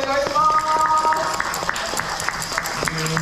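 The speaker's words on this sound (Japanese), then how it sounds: "もう一度大きな拍手お願いします" An audience applauds at a Kumamon show in Kumamon Square, a steady run of fairly close claps with a voice talking over them.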